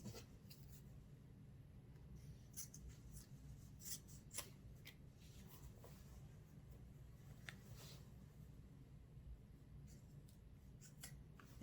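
Scissors cutting through dress fabric during a clothing alteration, faint irregular snips and rustles over a steady low hum, quiet and close, with no speech.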